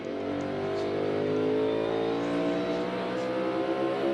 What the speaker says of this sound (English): Hear them lift, go right into the corner, and go right back to a little bit of partial throttle to get the car going up off the corner